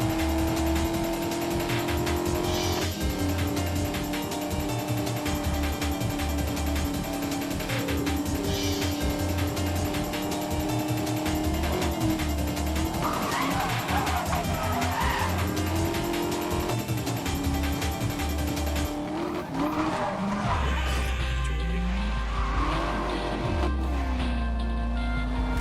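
Race cars roar through a Need For Speed Most Wanted open-world driving game, engines holding steady tones with pitch shifts as gears change, tires squealing now and then, loud and continuous for the whole stretch.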